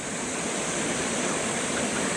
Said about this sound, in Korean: 명설 폭포인데요.